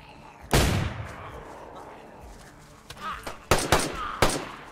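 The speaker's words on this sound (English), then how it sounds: "I'm going to start shooting." DayZ gunfire on a dark hillside: one loud shot rings out and decays, then after a pause a rapid cluster of several sharp, close shots follows.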